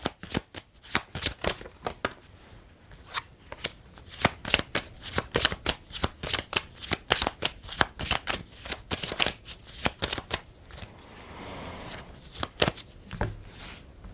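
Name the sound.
tarot cards being shuffled and laid out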